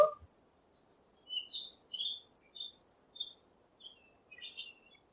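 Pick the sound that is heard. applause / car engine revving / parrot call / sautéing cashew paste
parrot call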